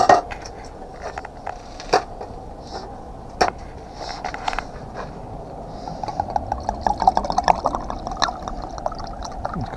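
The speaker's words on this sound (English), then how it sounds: "Pour the wine!" Wine pours from a bottle into a cup at a campsite in Tossa de Mar, Spain, with soft liquid trickling that turns into irregular glugging bubbles, over quiet outdoor ambience and a few light knocks.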